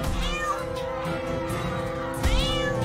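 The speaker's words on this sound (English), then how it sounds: "No, kitty, fight back!" Cartoon cat meowing during a turn-based battle in the South Park: The Stick of Truth video game, a few drawn-out meows over a steady game music bed, the last one louder near the end.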